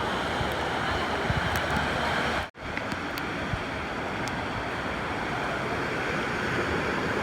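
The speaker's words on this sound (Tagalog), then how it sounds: "Lalaki ng alon, no?" Loud, continuous roar of heavy surf and big sea waves crashing against rocks close by on a shore at Sai Kung, Hong Kong, with wind buffeting, broken by a brief dropout partway through.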